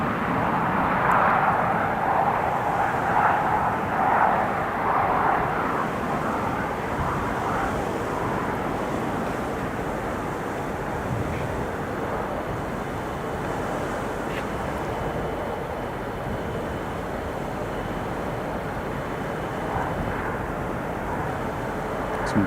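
A British Airways airliner taxis at Newcastle International Airport, heard as a steady, distant jet roar blended with heavy, blustery wind buffeting the microphone throughout.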